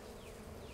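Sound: honeybees buzzing in the hive

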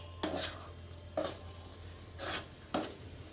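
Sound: stirring spinach into gravy in a pan

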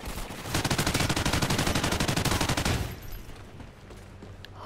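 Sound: gunfire in a video game

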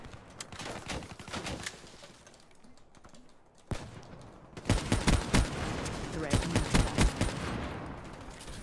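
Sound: Dracon sniper rifle gunfire in a video game

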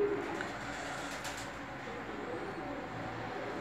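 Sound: pigeons cooing

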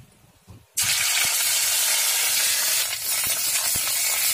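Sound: ginger paste sizzling and stirred in hot oil

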